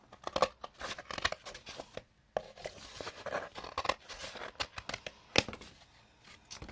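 Scissors snip and crinkle through a cardboard egg carton, close up, in short irregular bursts with brief pauses between cuts.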